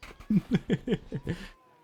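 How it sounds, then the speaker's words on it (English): A cat in The Witcher 3: Wild Hunt gives a quick run of six short, close meows in an even rhythm, heard alone, then silence. "Oh, cat. Meow."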